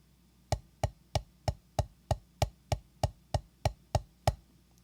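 Drum sticks playing a triple, double, single sticking pattern, about twelve crisp, dry taps in an even pulse, close and fairly quiet with no other sound.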